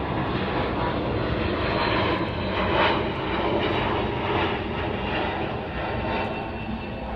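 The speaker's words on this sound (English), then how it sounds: "So check out this A321 Neo, more like Nito." Airbus A321neo jet airliner at Chicago O'Hare, a steady, fairly loud roar of engines holding for several seconds with a slight swell near the middle, heard alone without voices.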